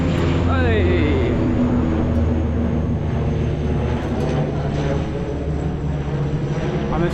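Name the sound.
airplane taking off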